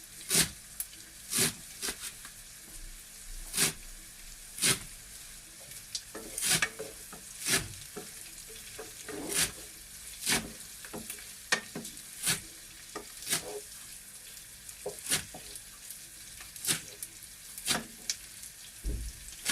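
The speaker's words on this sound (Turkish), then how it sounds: "Bu arada soğanlarımızı kavuruyoruz." Onions sizzle steadily as they are sautéed in a pan while a spoon stirs and scrapes against it at intervals, close up, with no talking.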